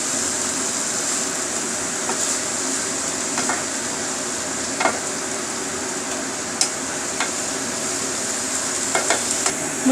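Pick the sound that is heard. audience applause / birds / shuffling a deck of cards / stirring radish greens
stirring radish greens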